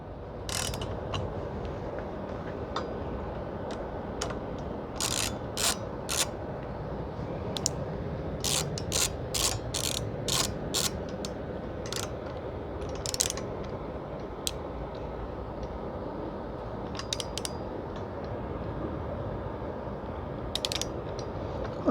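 Screws turned with a ball-head driver on a Honda Rebel 1100 batwing screen cowl, giving a run of small ratcheting clicks and creaks in irregular bursts over a steady low background hum, close up and with no talk.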